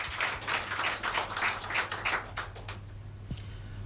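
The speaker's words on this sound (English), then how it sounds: "Moku clap for us" Studio audience on a Nigerian police and human rights radio programme clapping in a steady, moderately loud patter for a few seconds, then tapering off into near quiet with a low hum underneath.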